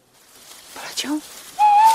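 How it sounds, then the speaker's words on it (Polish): Tawny owl calling at night in the forest, a short thin hoot with a clear sustained whistled note near the end, fairly close and distinct over quiet background. "Czyli jak dwa puszczyki usłyszeliśmy"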